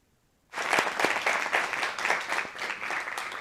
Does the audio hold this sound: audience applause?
yes